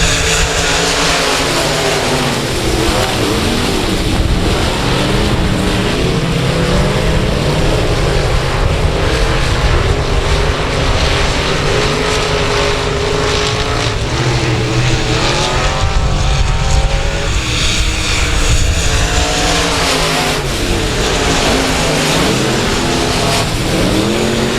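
Pack of limited modified race cars roaring away at the green flag at a speedway, engines loud, continuous and revving hard throughout, close and dense with no talk.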